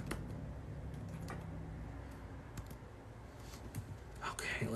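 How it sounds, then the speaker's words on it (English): Keyboard typing while entering someone's chart during a live astrology chat: scattered light clicks and taps over a steady background murmur, with a voice talking faintly underneath. "We're typing in Brittany's chart."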